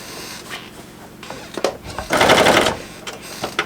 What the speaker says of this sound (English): so now I'm going to do some quilting on it.